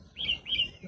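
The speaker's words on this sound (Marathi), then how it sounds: "अतिशय सुंदर असं पक्ष्यांचं आवाज येत असेल तुम्हाला" Birds chirping beside a dam on a morning walk, two bright rising-and-falling calls in quick succession, fairly close and clear over a soft background hush.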